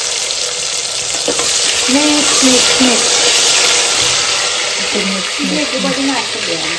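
Potatoes and vegetables sizzling in hot oil in a home kitchen, a loud steady frying hiss throughout, with a voice talking over it now and then.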